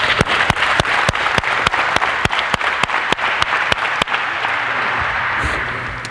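Sharp, loud hand claps at a basketball coaches' court session land in an even, brisk beat, about seventeen in a row, over a hall's background murmur, then stop and leave only the room noise.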